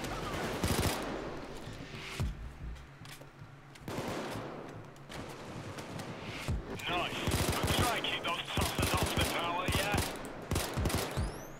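Gunfire in the Payday 2 video game, with rapid bursts and sustained automatic shots running almost continuously, loud and mixed under voices talking throughout.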